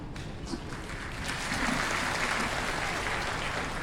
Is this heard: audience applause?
yes